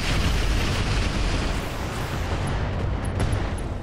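Mech weapons fire and a heavy explosion in the BattleTech mod Roguetech merge into a loud, continuous booming roar. The rumble fills the whole stretch and holds close and dense from start to finish.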